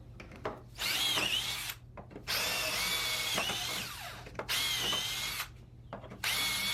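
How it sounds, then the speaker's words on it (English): A power drill with a 1/4-inch bit bores holes while fitting a GrassFlap onto a Spartan 48-inch zero-turn mower deck, running in several loud, sustained bursts separated by short pauses, with no talking. "we're going to go ahead and drill the remaining 6 holes"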